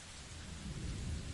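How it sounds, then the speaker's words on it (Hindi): Steady rain falls outside with low rolling thunder underneath, a continuous wash of drops at moderate distance that swells slightly toward the end, with no voices. "सिर्फ बाहर से हल्की हल्की बारिश की आवाज़ें आ रही थी।"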